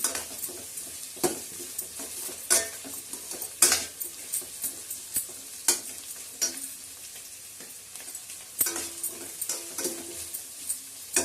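Green chillies, fresh and some dried, sizzle and fry in a pan while cooking chow mein, with steady crackling, frequent stirring scrapes and utensil knocks against the pan, close and fairly loud, no talking.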